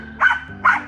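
A male dog at an animal park barks twice, sharp and close, in quick succession within a second.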